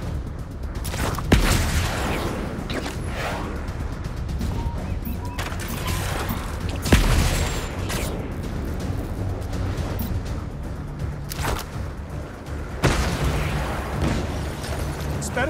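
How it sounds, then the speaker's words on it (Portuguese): Loud booming blasts from an electric cannon in the game Marvel's Spider-Man 2, several heavy bursts across the stretch over constant dense background noise. "É um canhão elétrico?"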